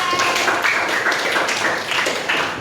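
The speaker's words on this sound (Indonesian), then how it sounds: "Tepuk tangan untuk kita semua." A classroom group clapping along in a quick, uneven patter, fairly close and steady for a few seconds, with no talk over it.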